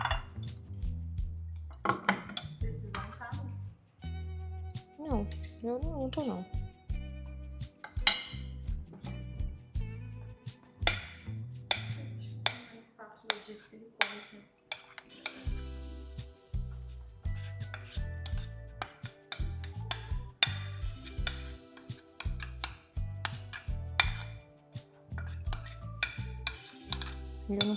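A mixture is transferred into a microwave baking dish in a home kitchen, with repeated clinks, scrapes and clatter of spoon against dish in a busy, uneven rhythm, close by; a brief voice is heard.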